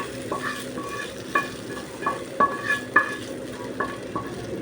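Fried onion and garlic being stirred into a jute leaf and chickpea lentil curry in a hot pan, with a steady sizzle under repeated scraping strokes of a spatula, close and loud.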